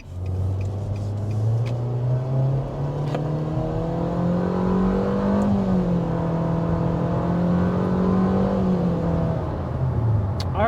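A 2023 Nissan Versa accelerating on a test drive: a steady engine drone with a rising pitch that climbs gradually, evens out near the middle and drops slightly at the end, under constant road and tire rumble.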